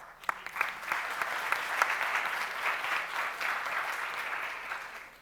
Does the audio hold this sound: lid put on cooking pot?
no